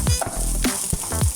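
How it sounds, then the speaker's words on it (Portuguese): Rice sautéing with sliced onion in a pan for a lemon risotto, a loud steady sizzle with a few stirring scrapes and spoon knocks, close up and alone without speech. "Suou a cebola, a gente vai dar uma refogada nesse arroz."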